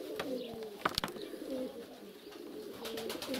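Pigeons coo softly and repeatedly inside a pigeon loft, their low throaty calls overlapping in a steady murmur, with a few sharp flutters or knocks breaking through.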